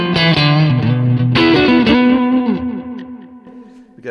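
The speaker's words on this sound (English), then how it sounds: "got a good amount of delay there" Distorted Stratocaster electric guitar chords through a Kemper amp profile ring out with heavy delay repeats and reverb, notes echoing and trailing off as the playing fades.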